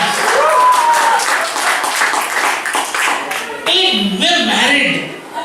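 Audience at a stand-up comedy open mic applauds and cheers loudly and steadily throughout, a dense wash of clapping with whoops rising near the end.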